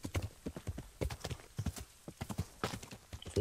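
Fast horse hooves gallop in Kingdom Come Deliverance, a rapid rhythmic clip-clop of repeated sharp thuds in quick groups, close and clear with no talking.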